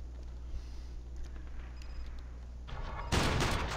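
Gunfire in the trench-warfare shooter Iron Storm: a steady low rumble of battle ambience gives way to a sharp, loud burst of shots near the end, with no talking over it.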